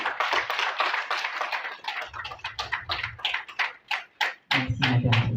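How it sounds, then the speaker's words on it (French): An audience at an ambassador nomination ceremony in Goma claps steadily, the applause thinning into separate hand claps as a voice speaks over it. "vous pouvez applaudir"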